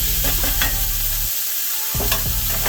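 Corned beef stirred and heated in a pan, with a steady sizzle broken by scraping stir strokes and a brief lull partway through, no talking.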